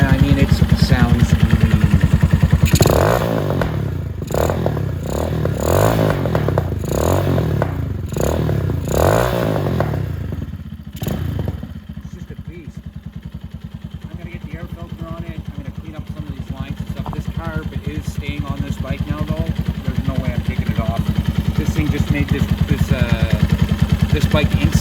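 A Venom 250cc Villain chopper motorcycle engine running after a carburetor swap on a bike left sitting for two years, loud and close. It idles steadily with a burst of clattering revs early on and a voice talking over it.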